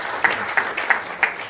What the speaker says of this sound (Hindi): राज के लिए जोरदार तालियां आपको